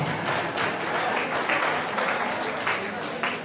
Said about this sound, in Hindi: जो बैठे रहे ताली तो बजा सकते हैं।